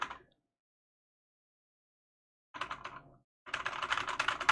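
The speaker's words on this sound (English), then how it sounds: "You can probably hear it when I'm typing" Typing on a computer keyboard picked up by a cheap microphone: a short burst of keystrokes, a long silence, then two fast clattering bursts, close and clear.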